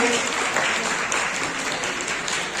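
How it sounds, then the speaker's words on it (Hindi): Steady, dense applause from a large crowd at a farm gathering for an agriculture minister in Haryana, India, sustained evenly throughout with no pauses, a faint voice barely noticeable underneath. "जोरदार तालियों से आप सब योगदान दें"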